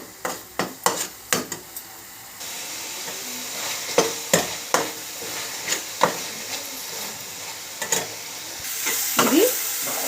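Masala fries in a pan as a spoon scrapes and taps against the metal in sharp, regular strokes over a soft background sizzle that swells louder toward the end; no talking.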